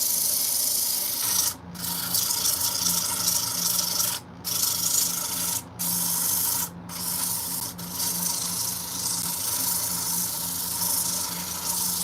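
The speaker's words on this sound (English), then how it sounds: "I'll flip it around and sand the backside." Sandpaper scrubbing the back of a wooden turkey call, a close, loud, rasping hiss of repeated strokes broken by a few short pauses.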